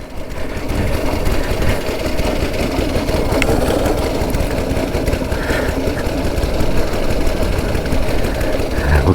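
A 109-year-old TT racing motorcycle with a continuously variable gearbox runs steadily, its rough, busy engine drone holding at an even, loud level from start to finish.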